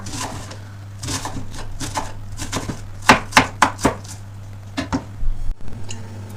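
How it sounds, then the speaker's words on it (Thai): A knife chops onion on a board in quick, close strokes, with a short fast burst in the middle, over a steady low hum. "เราก็จะหั่นหอมใหญ่นะคะ"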